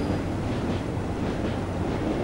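Train running in Train Simulator 2014 on a route around Hamburg, a steady loud low rumble with a continuous rolling drone and no voices.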